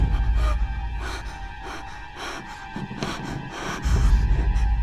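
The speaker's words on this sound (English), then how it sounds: "I used a mix of sound effects and enhanced breathing sounds to build up tension." Heavy, close breathing with sharp gasps and snorts, rising and falling in bursts over a steady droning background.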